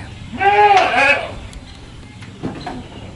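Goats bleating in a livestock pen, one loud drawn-out wavering bleat near the start followed by a fainter short call later, with some background noise.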